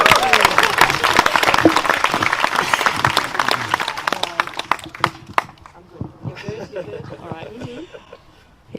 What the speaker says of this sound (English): Give him a cheer, didn't he do well?